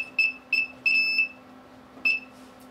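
A wireless home security alarm keypad with auto dialer sounds a series of sharp, high electronic beeps in short bursts, four close together, then a pause and one more, alone over a low steady hum.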